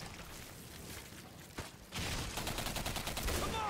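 Gunfire in the first-person shooter Singularity during a co-op firefight, a sharp shot midway then a dense stretch of rapid, continuous firing, loud and sustained with no clear pauses.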